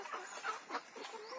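Desi chickens on a farm cluck softly in a short run of close, quiet calls.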